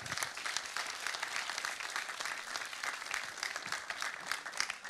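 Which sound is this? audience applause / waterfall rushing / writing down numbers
audience applause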